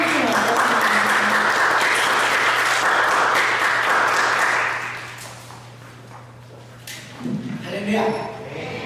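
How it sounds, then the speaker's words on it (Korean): A church congregation applauds loudly as a guest preacher comes forward, a dense burst of clapping that fades out after about five seconds, leaving a low hum before a voice begins speaking. "박사님 나오시면 큰 박수로 맞았습니다"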